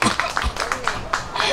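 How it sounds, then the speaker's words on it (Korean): An audience claps for the camera directors at an outdoor pumba performance by Banwol Lake, giving a short run of brisk, irregular hand claps close by, mixed with some talking. "우리 감독님들한테 우리 박수 한번 주세요"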